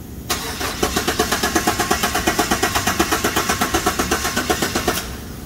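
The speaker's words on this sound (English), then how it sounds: "This will result in the engine turning over." Engine of a 2018 Chevy Silverado cranking over via a starter relay bypass, a rapid, steady rhythmic chugging of the starter for several seconds before it stops abruptly.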